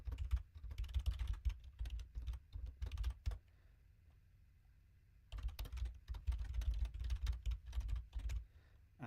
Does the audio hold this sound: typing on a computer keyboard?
yes